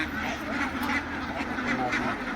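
Female duck on a duck farm in Punjab, Pakistan, quacking in a continuous raspy chatter that merges with other nearby fowl, while someone talks over the din throughout.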